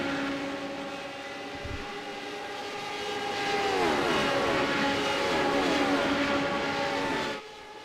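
Radical race cars at Le Mans scream past with high-revving engines, their pitch climbing and then dropping in sweeping Doppler passes as several cars go by in close succession before the roar suddenly cuts away.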